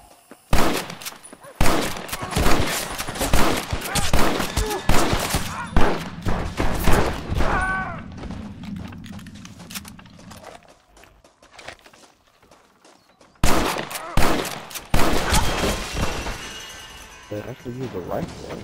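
Rapid gunfire fills the scene in dense bursts of sharp, loud shots, pausing for a quieter stretch with a voice before another heavy volley, with talk heard between the shots.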